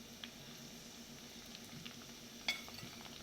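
Chopped green chilies and curry leaves fry in oil in a pan for king fish curry, a faint, steady crackling sizzle with a few small pops, alone and without talk.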